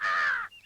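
A single crow gives one loud, close, harsh caw that cuts off abruptly, followed by a faint trailing note.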